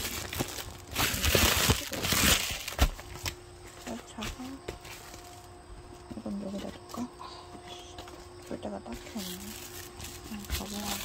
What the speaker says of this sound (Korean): 이거 인형 담는 비닐인데 지금은 딱히 필요 없어